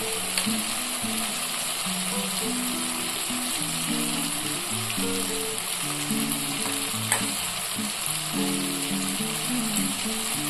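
Ginger-garlic paste and green chilli sizzling in a hot pan while cooking a homestyle Bengali dish, a steady dense frying hiss with scraping stirring sounds throughout, close and continuous with no talk.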